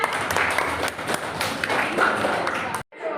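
A small group claps in a classroom, a dense, steady patter of handclaps lasting about three seconds before cutting off abruptly.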